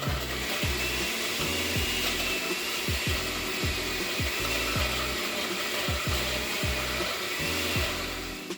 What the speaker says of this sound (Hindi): ब्लेंडर ऑन करें और अच्छी तरह से सब्जी और फल को ब्लेंड कर लें